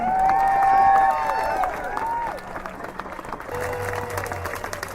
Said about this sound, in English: let's have a big round of applause to the Workers' Center for organizing